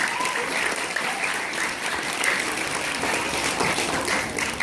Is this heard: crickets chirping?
no